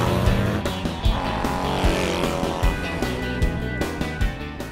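A BMW Concept Path 22 scrambler motorcycle with a two-cylinder boxer engine and shaft drive races in the Punks Peak Race at the Wheels & Waves festival, its engine droning loud and steady with rising and falling revs.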